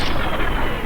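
A short, loud burst of heavy video game gunfire, booming shots packed close together with no pause between them.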